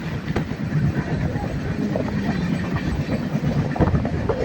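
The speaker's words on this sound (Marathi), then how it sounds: "अशी ट्रेन चालली फास्टमध्ये" The Deccan Express runs fast, a dense rumbling roar of wheels and carriage noise with faint rattling clicks, steady and close throughout.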